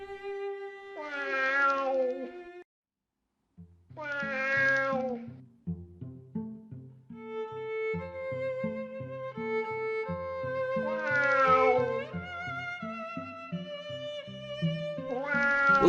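A kitten meows clearly and close, giving several drawn-out, tonal cries in an uneven series with short pauses between, alone against silence.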